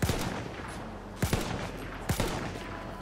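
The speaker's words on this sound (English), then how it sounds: "I guess it is a sniper. But it shot twice." A sniper rifle in the multiplayer video game Battlefield 1 fires three sharp shots about a second apart, each with a short echoing tail, over a steady background rumble, with no talk.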